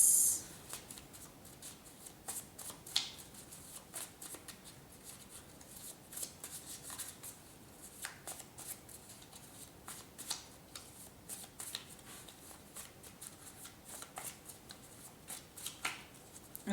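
Tarot cards being shuffled for a psychic reading, with quiet repeated riffling and soft slapping of cards in close, irregular bursts and no talking.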